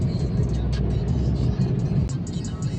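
Road traffic near a tunnel: a steady, close engine drone and whir of cars moving by, with a person talking over it.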